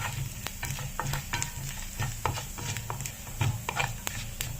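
Lentils and fenugreek seeds roast in a pan for bun dosa, giving a close, continuous sizzle with repeated scraping and stirring strokes that tick through it, fairly loud and steady, with no speech.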